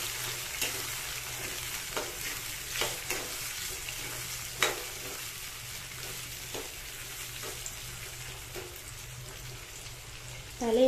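Vegetables frying on a lowered gas flame and being stirred before Maggi noodles go in, a soft even sizzle with periodic scraping strokes, close but fairly quiet, ending on a louder clatter.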